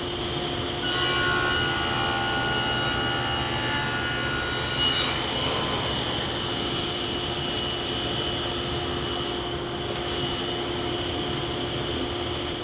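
A router or similar power tool cuts a chamfer along the edge of a wooden speaker cabinet, run against a fence. It gives a continuous, loud, steady machine whine and rasp that holds for the whole stretch with no talk.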